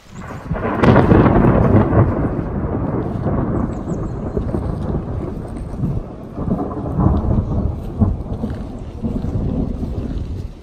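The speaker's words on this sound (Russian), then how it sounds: "Ударила молния, и такой грохот был" Deep thunder rumbles loudly after a lightning strike and rolls on for several seconds, swelling again later, with steady rain in the background, during a thunderstorm on Hoverla in the Carpathians.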